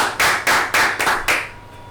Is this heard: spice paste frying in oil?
no